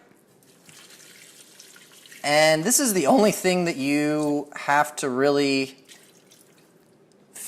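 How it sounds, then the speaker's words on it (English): Water is added to an Instant Pot holding rice, a faint trickling pour in the background before and after a stretch of talking that covers it in the middle. "so next all you have to do is just add some water to it."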